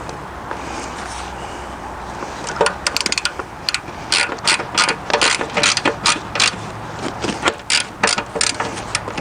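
A ratchet socket tightens bolts while Conely's Gen 3 Retro T-Sports saddlebags are fitted to a motorcycle, giving quick bursts of close, crisp clicking that stop and start repeatedly.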